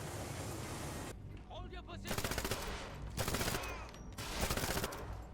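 Bursts of rapid automatic gunfire in a 007 video game, three dense volleys separated by short lulls, loud and close, with some voices mixed in.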